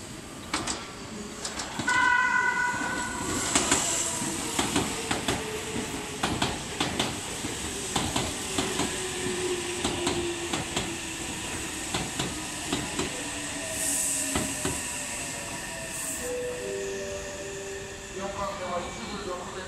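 A Meitetsu 2200 series limited express train pulls into a platform at Kanayama station, with rail clatter, a brief electric horn note and station noise over about twenty seconds.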